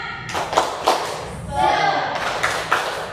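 Children in a classroom perform rhythmic group clapping in short bursts, with loud claps at regular intervals and brief chanting voices between them.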